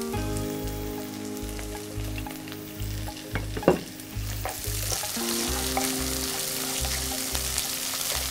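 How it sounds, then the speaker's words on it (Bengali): An onion, garlic and chili mixture frying in a pan crackles with a steady sizzle and occasional stirring scrapes, under a loud pulsing mechanical hum from a nearby appliance, with no voices. "আমাদের পেঁয়াজ রসুন এবং মরিচের মিশ্রণটা মোটামুটি ভাজা হয়ে আসছে"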